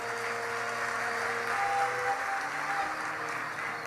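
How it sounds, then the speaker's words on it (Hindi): Crowd applause at a large religious discourse gathering, a steady continuous wash of clapping sustained throughout without pause. "ताली बजा करके धन्यवाद दो"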